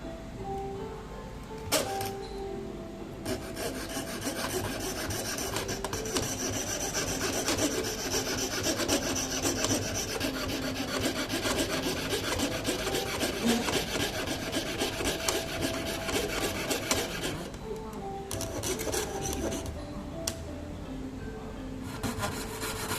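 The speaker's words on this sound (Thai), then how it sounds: "ถอยเลื่อยหลัง ถอยเลื่อยกลับมาเหมือนเดิม" A fret saw rasps back and forth through mother-of-pearl shell in a fast, steady scraping rhythm, close up, pausing briefly a few times before resuming.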